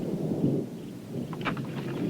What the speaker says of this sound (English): Robbie, looks like we're going to have some thunder showers moving in across the mountains today